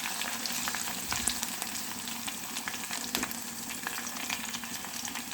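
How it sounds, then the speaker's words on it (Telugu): Ingredients sizzle and fry steadily in hot oil for a homemade hair-growth oil, a continuous close crackle with occasional sharper pops and stirring. "మంచిగా ఫ్రై ఆయిల్ కలర్ చేంజ్ అయ్యేదాకా మనం ఉంచుకోవాలి."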